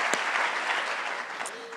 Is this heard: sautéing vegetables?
no